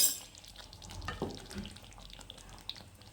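Quiet stirring of an Afghani chicken curry with cream and kasuri methi, soft scraping and light bubbling in the pan with a few faint clinks, close by and without voices.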